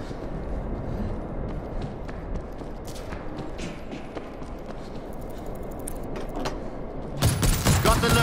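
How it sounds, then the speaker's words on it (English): Automated turret rattling off steady rapid fire at a zombie horde in World War Z's Horde Mode, a dense continuous clatter amid game noise, with a louder burst near the end. "I set up an auto turret."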